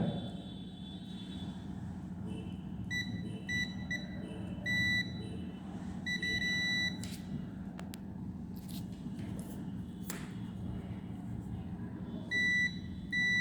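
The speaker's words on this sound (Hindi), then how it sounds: "तो बीप का साउंड आ रहा है, इसका मतलब कि मेरा ये दोनों के बीच का भी कनेक्शन ओके है।" A multimeter set to continuity beeps as a technician probes the wiring of a reverse parking assist system, giving short repeated high electronic tones over a low indoor hum.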